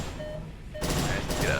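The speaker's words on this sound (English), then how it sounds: "Wow, that's a lot of gunfire." Gunfire in an online video game comes as a dense, sustained burst of shots that grows louder partway through, with a person's voice faintly in the mix.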